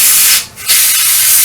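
Airbrush or spray can hissing steadily as paint goes onto the wheels of a StuG III Ausf G model tank, a loud continuous spray with a brief pause midway before resuming.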